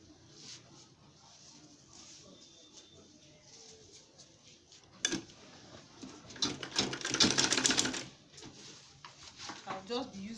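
A home sewing machine stitches the body of an insulated lunch bag, its needle running in a quick patter that builds to a denser, louder burst, faint and close amid quiet handling noises.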